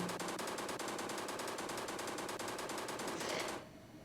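Rapid automatic gunfire in a zombie shooting video game, a long unbroken burst of fast, evenly spaced shots that stops abruptly near the end, loud and alone.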